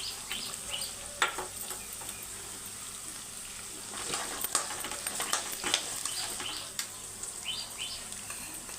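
Potato and carrot pieces frying in a pan for flattened-rice poha upma, giving a soft, steady sizzle with occasional stirring scrapes and small clatters near the middle.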